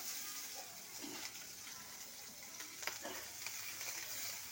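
Onion sizzles in hot oil in a pan after whole cardamom, cloves and cinnamon are tempered for rohu fish kalia. A faint, even frying hiss continues throughout, with a few soft stirring clicks.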